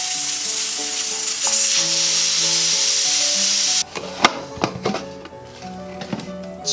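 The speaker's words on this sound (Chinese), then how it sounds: "加入盐，盖上锅盖，等冒气以后炸个7分钟。" Pig trotters fry in a covered pot with salt and water, a steady loud sizzle that gives way to sharp lid clatter and bubbling taps in the second half.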